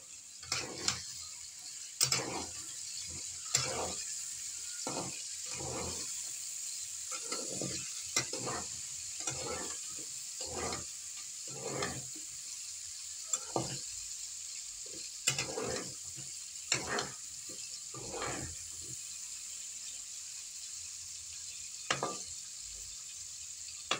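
Onion paste, chopped chilli and tomato paste frying in a pan, a faint constant sizzle broken by repeated scraping strokes of a spatula in an irregular rhythm, no talking.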